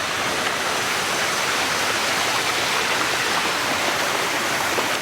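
Creek flowing through a tropical garden near Hilo, Hawaii, a steady, close, full rush of running water with no breaks, no voices.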